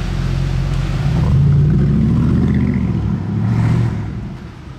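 Ferrari 812 Competizione V12 fitted with what may be a Quicksilver exhaust, producing a loud, steady low rumble that swells in the middle and eases toward the end, close by with no voices.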